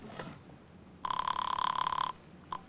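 Old-time radio drama telephone bell rings in one steady electric burst of about a second, loud and close, followed by a brief faint second ring, with no talk over it.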